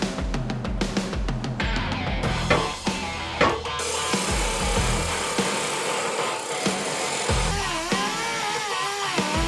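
Metal tubes being cut for a Ford F100 unibody's boxed frame and C-notch, a rough rasping saw cut with knocking impacts, running steadily and loud throughout with no talk.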